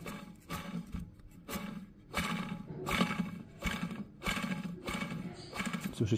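A worn bearing from a BMW xDrive transfer case (VTG ATC35L) spins noisily, producing repeated rhythmic bursts of rough grinding and whirring, close and fairly quiet, with no voices.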